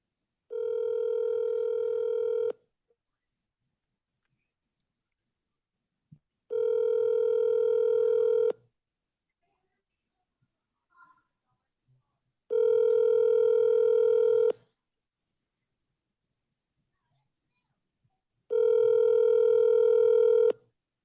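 A telephone line rings back in four long, evenly spaced tones of about two seconds each, separated by silence, loud and close.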